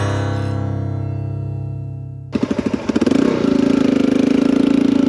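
A dirt-bike style motorcycle on a trail ride in Utah's San Rafael Swell canyon country: a steady, humming engine tone, then a sudden louder, rougher stretch of engine pulses and revving that settles into a strong, continuous drone close to the rider.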